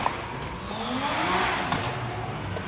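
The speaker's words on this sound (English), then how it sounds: "I think it's Alexis Harris heating up his tires with the 2JZ. That's what we can hear right now." A 2JZ-engined drift car heats its tires on asphalt during drift practice, a steady broad engine roar rising and falling slightly, fairly distant and continuous, with faint tire noise mixed in.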